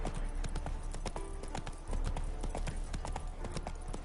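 Roach the horse gallops in Witcher 3 with rapid, close hoofbeats in a steady, driving rhythm that lasts throughout.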